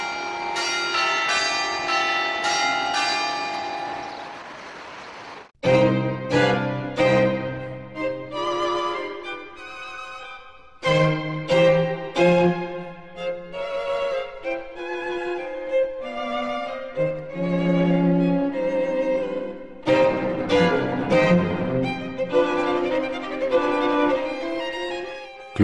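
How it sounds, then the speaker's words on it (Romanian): Church bells cast in 2007 by the Grassmayr foundry in Austria, ringing in loud overlapping peals with a long sustained strike at first, then rhythmic changing tones, no talking. "Clopotele bisericii au fost turnate în 2007 la renumitele ateliere Grassmayer din Austria."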